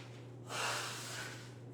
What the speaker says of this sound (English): I just gotta blow my nose here.